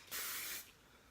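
Hairspray hisses onto styled old Hollywood glam hair in one steady, close burst lasting about half a second, then cuts off to quiet.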